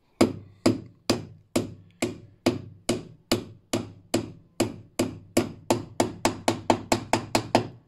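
A hammer strikes a nail into wood in a joinery workshop, a steady series of about twenty loud, close, sharp knocks that grow quicker toward the end.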